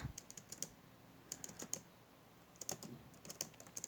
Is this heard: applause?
no